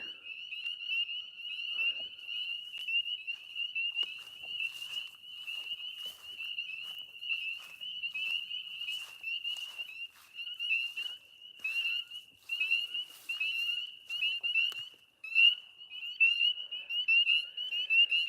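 Frogs beside a pond on an off-grid homestead trill loudly and continuously in a dense, high-pitched chorus, with pulsing overlapping calls and short rhythmic bursts, near and alone.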